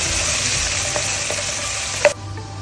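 Onion and tomato fry in a pan with a steady, loud sizzle and occasional utensil taps, cutting off abruptly near the end.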